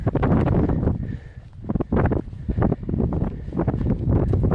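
Wind rushing across a mountain saddle on the Appalachian Trail, a loud steady gusting roar buffeting the microphone close up, surging and easing without letup.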